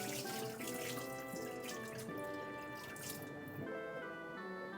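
Tap water runs steadily into a sink while rice is rinsed for a Japanese meal, a constant close splashing flow with drips and a tonal hum behind it.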